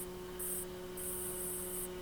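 Candy paint is sprayed onto a Hot Wheels '66 Nova in a few short, faint hissing bursts over a low steady hum.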